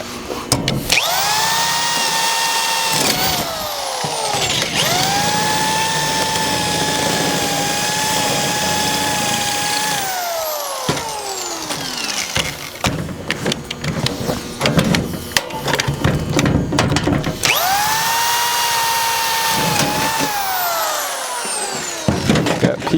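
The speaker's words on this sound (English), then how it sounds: "I'm gonna drill this out now" A power drill bores into a locked safe marked as crime-scene evidence, a loud, close, high whining grind that rises and falls in pitch as the bit catches and frees, running almost continuously with brief breaks.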